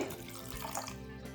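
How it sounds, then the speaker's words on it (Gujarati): Half a glass of water pours steadily into a pan of pav bhaji mixture with mashed bottle gourd, a continuous splashing gush lasting throughout, close and moderately loud with no voices. "પાણી એડ કરીએ છે"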